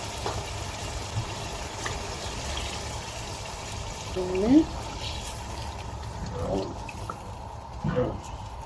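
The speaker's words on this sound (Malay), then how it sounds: "Mami masukkan 1 kotak santan kara nanti dengan 1 kotak lagi air." Coconut milk from a carton, then water, is poured into a pot of Thai green curry, giving soft splashing and filling sounds in short bursts while someone talks.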